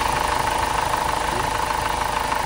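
Hyundai Starex CVX engine with low power and a blinking check-engine light idling steadily, a loud, continuous close-up hum with a faint rhythmic pulse and no speech.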